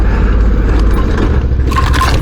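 A tree branch scraping along a Barkbuster handguard on a motorcycle riding a bush track, a short rough grinding scrape over a loud, continuous engine and ride rumble.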